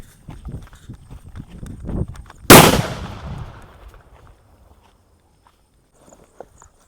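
A Sivakasi Digital Bomb firecracker exploding, one sharp, loud bang that rings off and fades over about a second, preceded by scuffing footsteps and followed by near silence with a few faint knocks.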